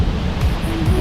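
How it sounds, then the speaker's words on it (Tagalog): Strong sea waves at a beach in Zambales, a dense, continuous rushing wash of surf that stays loud the whole time. "Walang naliligo kasi ang lakas ng alon ng dagat."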